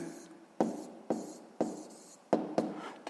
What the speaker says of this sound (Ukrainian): Отже, пишемо Т1.